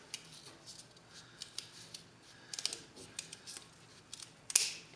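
Scissors cut out a small paper heart for a Valentine's Day craft, with a close, quiet series of crisp snips and paper rustles that grow denser toward the end. No one speaks.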